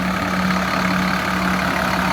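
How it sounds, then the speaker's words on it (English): Cummins diesel engine of a Gillig 40-passenger transit bus idling, a loud, steady low rumble with an even drone and no gaps, nothing else over it. "It is powered by a Cummins diesel engine,"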